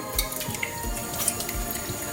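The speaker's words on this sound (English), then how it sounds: "So just fill up your pot with water." Tap water runs steadily into a cooking pot in a home kitchen, a soft continuous splashing and trickling stream heard alone at moderate volume.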